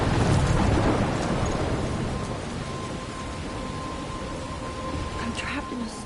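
Storm in the Life is Strange video game: a steady wash of heavy rain with a low thunder rumble, loudest at the start and easing slightly, with a faint tone running underneath.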